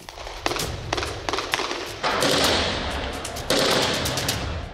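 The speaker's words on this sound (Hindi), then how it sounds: "शारे फैसल पर गोलियों की तड़तड़ाहट सुनाई दी" Gunfire during the attack on the Karachi police office on Shahrah-e-Faisal comes as rapid bursts of automatic shots and single cracks, loud and echoing, in two dense volleys with no talk over them.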